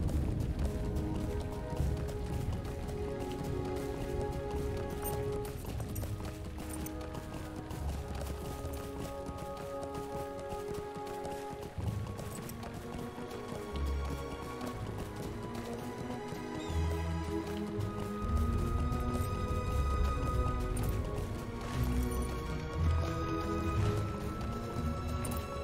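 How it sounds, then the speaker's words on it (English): Horse hooves clip-clop steadily while riding along a path in Lord of the Rings Online, a continuous rhythmic trot under layered game music and ambience, with no talking. "let me go get the horse on whatever is"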